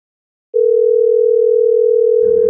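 A telephone dial tone sounds while a call is being placed: one steady, unbroken tone starts abruptly and holds at an even, fairly loud level. A faint rustle joins it at the very end.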